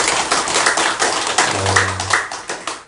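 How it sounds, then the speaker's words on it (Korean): A congregation claps during a sermon at a Won Buddhist temple, loud close hand claps in an uneven, pulsing rhythm with distinct individual smacks, and a brief low hum partway through. "다시 한번 박수 부탁합니다"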